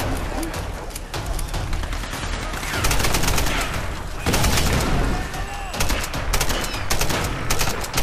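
Rapid bursts of gunfire from incendiary ammo in the Tomb Raider video game crackle densely and loudly, with booms and a steady roar of combat throughout, a voice speaking briefly underneath.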